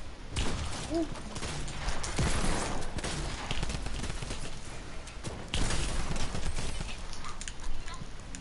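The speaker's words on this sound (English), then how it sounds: "this heavy shotgun is so bad, but I'm gonna still use it" Heavy shotgun blasts in a video game, a dense run of loud booming shots continuing across the whole stretch with little pause.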